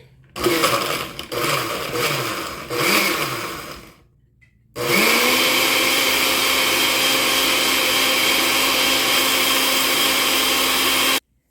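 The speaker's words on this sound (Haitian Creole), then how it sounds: "Nous blender pour 1 minute." A kitchen blender runs on a mix blended with a little water for a natural home remedy. Short uneven bursts of motor whirring give way, after a brief pause, to a loud, continuous high whine lasting about six seconds before cutting off.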